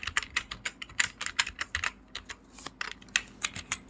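Fast, close typing on a computer keyboard, crisp clicking keystrokes in quick irregular bursts with only brief pauses.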